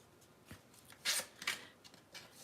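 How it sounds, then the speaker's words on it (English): Scissors scrape and rough up a paper journal card in a craft session, giving quiet scratchy rubbing bursts, two sharper strokes in the middle, close and faint, with no talking. "Just stick your scissors straight through it."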